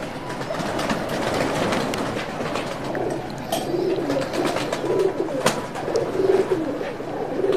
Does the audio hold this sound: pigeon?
yes